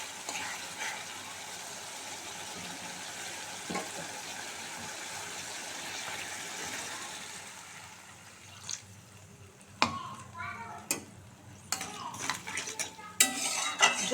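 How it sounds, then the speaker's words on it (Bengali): Masala frying in a pan hisses for several seconds, then grows quieter as water is added for a fish curry. Scattered sharp clinks of a utensil against the pan follow in the quieter stretch. "এবার আমি পরিমাণ মতো জল দিয়ে দেবো।"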